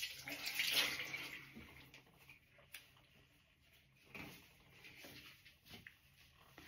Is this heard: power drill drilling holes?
no